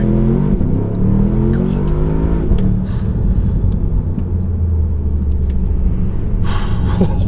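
A 2023 Porsche Panamera Turbo S launches hard from standstill, its engine roaring loud and close from inside the cabin as the pitch climbs through the gears, with a brief exclamation from the driver.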